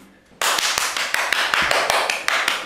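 Applause at a comedy show, beginning abruptly as a loud burst of clapping with sharp, rapid, rhythmic claps that continue steadily.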